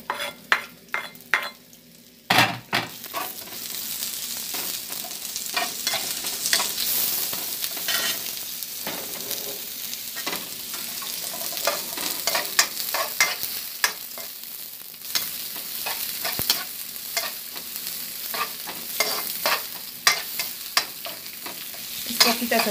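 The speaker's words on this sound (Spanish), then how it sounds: "Ya está calentando el aceite. Le voy a dejar a caer la cebolla." Onion dropped into hot oil in a pan, a few sharp clicks followed by a sudden burst into a loud, steady close sizzle, punctuated by repeated stirring scrapes and clinks, no talk.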